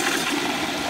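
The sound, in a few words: Kohler Stanwell urinal flushing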